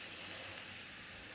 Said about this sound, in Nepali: मैले नै राति अब आलु थोडा सुक्न गरेर भुट्दैछु